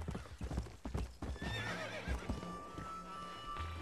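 Horses in Red Dead Redemption gallop with rapid, close clip-clop hoofbeats, then a loud whinny rises mid-clip over the thudding hooves before fading out.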